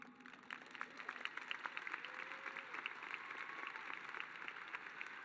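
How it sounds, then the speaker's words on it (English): A graduation ceremony audience applauds, a fairly faint, distant patter of clapping from a crowd that holds steady for a few seconds. "You can clap."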